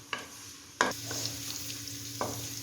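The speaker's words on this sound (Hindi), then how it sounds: "सैमुअल प्याज को बहुत ही अच्छे तरीके से सौते कर रहे हैं" Onions sautéing in a pan, a steady sizzle broken by a few sharp scrapes and clinks as a spoon stirs them, heard up close with no talking.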